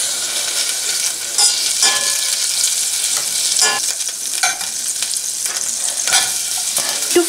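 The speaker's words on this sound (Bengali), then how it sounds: "অনিয়নটা যতক্ষণ না সুন্দরভাবে সফট হয়ে যাচ্ছে ততক্ষণ আমি অনিয়নটাকে ভালো করে ফ্রাই করে নেব।" Chopped onion frying in melted butter in a saucepan, a bright continuous sizzle with occasional stirring scrapes, close and loud.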